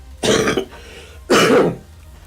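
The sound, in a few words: cough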